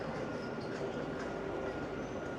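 A tram in Tours, France, rolling by on a long straight street shared with pedestrians and bikes, heard as a steady, broad rumble of wheels on rail close by, with no talking.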